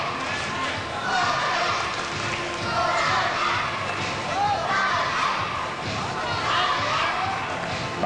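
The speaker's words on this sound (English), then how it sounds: "Ronnie Green's getting a tremendous amount of support from this crowd" A boxing-style Muay Thai crowd roaring in support of fighter Ronnie Green from Manchester, a steady dense wash of cheers and shouts with rising and falling surges, loud and continuous throughout.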